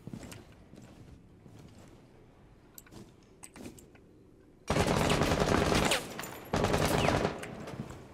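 Gunfire from a P90 in ranked Rainbow Six Siege play comes after a quiet stretch with scattered small clicks, as two loud, sustained bursts of rapid automatic shots, close and harsh.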